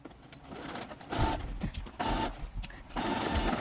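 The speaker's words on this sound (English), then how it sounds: "So we're going to start off by sewing our waistband at a 3/8 seam allowance" A sewing machine stitches a fabric waistband for kids' shorts in three short bursts of whirring motor hum, separated by brief pauses, close and moderately quiet with no voices.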